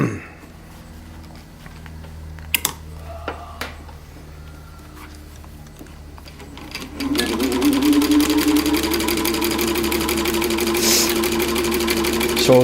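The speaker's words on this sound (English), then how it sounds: "when you sew it, you can see if it's tensioned correctly and running correctly" A sewing machine stitches upholstery material, threaded blue on top and white below. Quiet handling noises come first, then a steady, close, rapid run of stitching starts and continues to the end.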